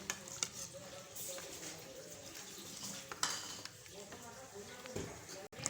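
Egg, potato and pea masala being stirred in a pot, with soft scraping, clinks of a spoon against metal and a low sizzle, fairly quiet.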